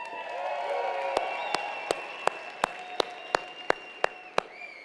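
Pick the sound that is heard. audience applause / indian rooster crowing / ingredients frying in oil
audience applause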